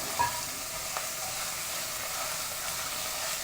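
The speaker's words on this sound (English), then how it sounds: "put the lean ground beef into the pot, and you'll hear it kind of sizzle" Lean ground beef sizzling in hot oil in a pot, a steady dense crackling hiss at close range with a couple of spoon knocks near the start, no talking.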